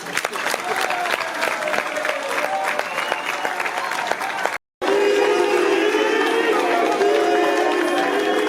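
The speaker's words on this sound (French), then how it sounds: "Est-ce que Maître Gédéon peut nous rejoindre sous vos applaudissements" An audience applauds at a formal Congolese assembly session, dense clapping that breaks off for an instant and returns fuller, with scattered cheers and voices in the crowd.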